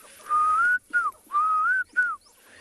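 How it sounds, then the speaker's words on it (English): Klaas's cuckoo calling at a sunrise safari, two clear repeated whistled phrases, each a long rising note followed by a shorter slurred one, fairly close and alone against a quiet background. "Oh, I just heard a classes cuckoo."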